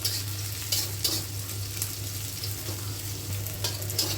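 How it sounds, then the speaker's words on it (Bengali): Chopped garlic and onion fry in hot oil while being stirred for a duck curry, a steady close sizzle with periodic scraping strokes of the spoon and a constant low hum underneath. "রসুন পেঁয়াজগুলো আমি আর একটু লাল করে ভাজবো।"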